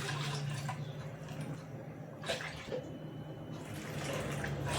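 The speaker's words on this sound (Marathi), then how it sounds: "चला तर मग आपण पाणी घेऊया." Water is poured from a bowl into a kitchen pot while preparing a bajra recipe, a soft steady trickle broken by a few brief splashy pours, fairly quiet and with no talking.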